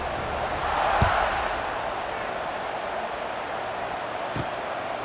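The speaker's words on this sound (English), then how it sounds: "this crowd is buzzing after that last score" Virtual stadium crowd in College Football 26 after a score, a dense buzzing roar swelling briefly, heard under a commentator's voice.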